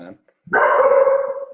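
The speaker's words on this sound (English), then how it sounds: "Apologize for the dog." A dog gives a single loud, drawn-out bark or yowl close by, cutting in right after a man's short spoken word.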